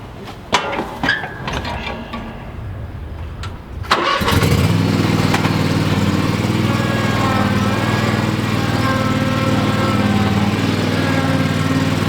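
A Cub lawn tractor engine cranks and catches after a few clattering handling sounds, then settles into a loud, steady close-up drone as the machine is repositioned, with no talk over it.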